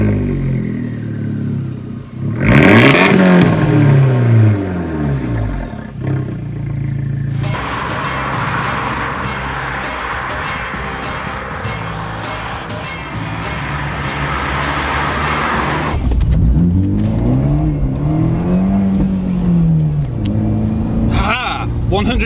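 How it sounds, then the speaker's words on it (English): A 2019 Abarth 124 GT's exhaust revs sharply, rising and falling in pitch, followed by a sustained roaring run and another swelling rev near the end. "the big selling point of the Abarth 124 is the exhaust"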